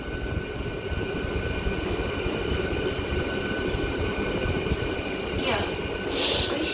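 A MEMU passenger train on the Guntur–Vijayawada branch line rumbles along steadily, with a dense, even roar of wheels and carriage noise throughout.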